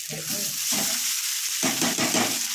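Fried rice with onion being stirred in a hot pan, a sizzling fry with bursts of scraping stirs in two or three strokes, close and clear with no talk.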